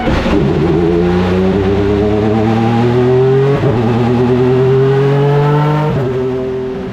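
A Honda CR-V Hybrid racer engine of 800 horsepower roars loudly and steadily, its pitch climbing through gears with brief drops between shifts, close and continuous, no talking.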